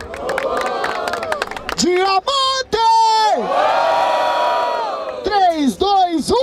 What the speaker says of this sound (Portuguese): Barulho para as rimas do Ghost.